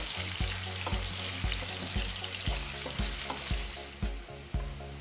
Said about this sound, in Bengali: এই পেঁয়াজটাও গোল্ডেন করে ভাজতে হবে।